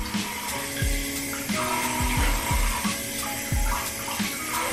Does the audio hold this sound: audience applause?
no